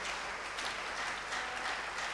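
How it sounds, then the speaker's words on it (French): A church congregation applauding, a dense, even wash of many hands clapping at moderate distance, continuous and fairly quiet. "Acclamons la parole de Dieu."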